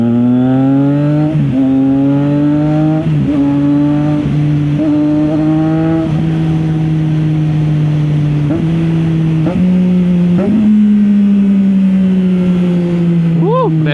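A Triumph Daytona 660 sports motorcycle being ridden in light city traffic, its engine note loud and close, climbing through repeated rev surges with brief dips between shifts and a sharp final blip.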